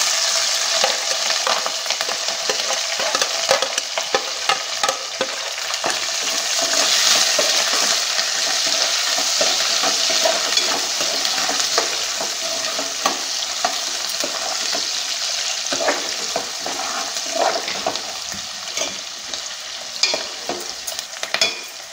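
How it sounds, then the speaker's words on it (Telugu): Chopped onions and green chillies fry in hot oil with small fish, a loud continuous sizzle broken by frequent clicks and scrapes of a spoon stirring the pan. "ఉల్లిపాయలు, పచ్చిమిరపకాయలు కట్ చేసి పెట్టుకున్నాం కదా, అవి వేసేస్తున్నాం"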